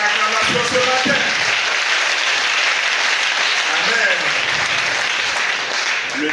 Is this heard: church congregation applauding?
yes